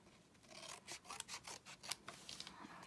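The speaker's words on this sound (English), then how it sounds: "Okay, let's get my scissors, turn the book over. Let's cut this one first." Scissors snipping through a notebook cover at a craft table, a quick run of close, crisp rasping cuts with no talk.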